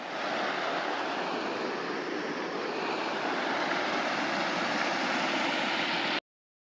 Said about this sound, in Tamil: இந்த தண்ணி போகிற சவுண்டு கேட்டிங்களா?